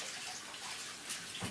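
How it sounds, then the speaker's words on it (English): Cold water runs from a kitchen tap as hands are washed under it, a steady, soft splashing hiss heard close by and alone, with a brief heavier splash near the end. "And I think I'll do it with cold water so I have cold hands."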